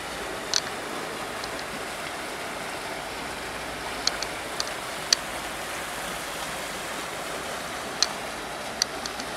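Water rushes out of a hydroelectric plant's duct back into the river, a strong, constant roaring wash with a few small sharp clicks on top and no voices.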